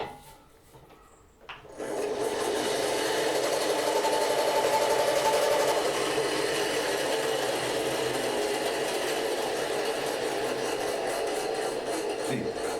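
An old jigsaw body mounted under a bench and driven by a separate motor cutting boards, starting up after a short quiet moment, then running as a steady, loud mechanical buzz and rattle with no talk.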